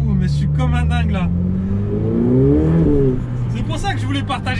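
Inside a Ferrari 488 Pista, the turbo engine pulls hard, its loud droning note climbing through a strong surge and easing off, with a person talking over the sound before and after.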